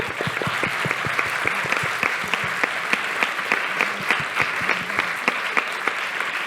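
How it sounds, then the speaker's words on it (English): Sustained audience applause at a university faculty anniversary ceremony, dense steady clapping from a sizeable crowd, loud and continuous throughout with no pauses. "We should applaud,"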